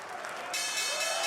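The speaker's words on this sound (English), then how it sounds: "Members of the Hilton Grand Vacations Group cheering on the start of the new trading week." A crowd cheers and applauds at the New York Stock Exchange opening bell, a broad steady wash of clapping that swells louder partway through, with voices mixed in.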